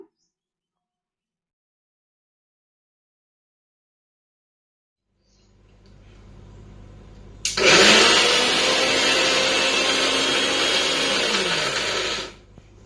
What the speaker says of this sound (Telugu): ఇప్పుడు వేయించుకున్న టమాటా పచ్చిమిర్చి కూడా వేసుకొని మెత్తగా మిక్సీ అయితే పట్టుకుందాము